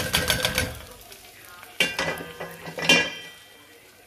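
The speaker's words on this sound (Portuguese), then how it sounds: "E vamos mexendo, né?" Vegetables and rice being stirred in a pan with asparagus nearby, a spoon scraping and clinking against the pan in irregular bursts over a faint sizzle, close and moderately loud.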